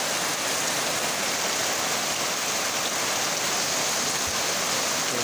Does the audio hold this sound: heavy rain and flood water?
yes